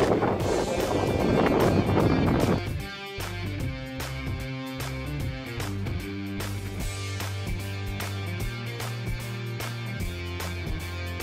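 Strong wind roars across the microphone aboard a sailboat off Mykonos in a rough, gusty burst, then gives way to rhythmic music playing steadily for the rest.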